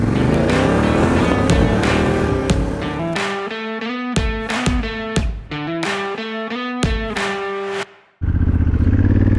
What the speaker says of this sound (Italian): accendo l'Africa Twin, sono in neutral, inserisco la marcia e sono pronto per andare